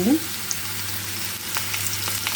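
Boiled, sliced potatoes fry in a pan, a steady close sizzle with a few soft crackles and stirring scrapes, no talking.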